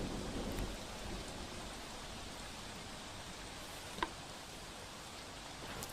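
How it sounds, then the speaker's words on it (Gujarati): Steady rain falling over Valsad city in a monsoon downpour, a dense, even hiss of drops on surfaces with one brief sharp knock partway through and no voices. "વલસાડ શહેરમાં વહેલી સવારથી જ વરસાદી માહોલ છે"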